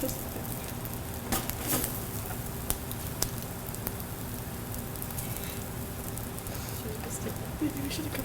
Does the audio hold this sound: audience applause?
no